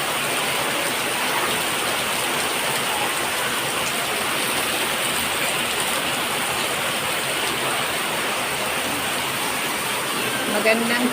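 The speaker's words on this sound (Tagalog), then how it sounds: "Lumalakas na yung ulan at hangin. Sana huwag naman bumuha. Malakas ang ulan dito sa Marikina." Heavy rain with wind pours down in Marikina in a dense, unbroken roar, steady and close, with no voices audible over the downpour.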